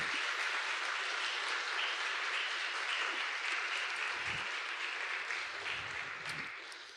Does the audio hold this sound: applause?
yes